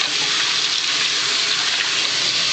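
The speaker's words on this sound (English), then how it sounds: "The water's cold!" Running water pours steadily while someone washes their hair in a shower or bath, a loud, close, continuous hiss of spray with no break and no talking.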